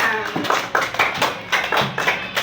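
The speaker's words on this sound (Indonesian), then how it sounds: "Tepuk tangan dulu untuk semuanya." A class claps along during a school lesson, a quick rhythmic series of sharp hand claps in a patterned beat, close and lively.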